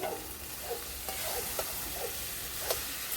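Jackfruit and potato pieces fry with spices in mustard oil, a steady close sizzle with light scraping stirs every half second or so.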